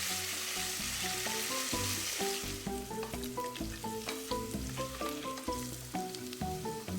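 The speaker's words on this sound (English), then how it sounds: "In the same oil, I am adding 2 chopped potatoes. Let's fry this a little." Two chopped potatoes frying in hot oil for a moong dal badi sabji, a steady close sizzle with stirring clinks over background music.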